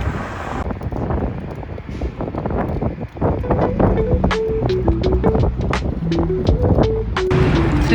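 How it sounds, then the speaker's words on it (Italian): Steady rushing wind noise buffets the microphone throughout, with scattered clicks and a faint tonal hum emerging in the second half. "C'è sempre un sacco di vento qua"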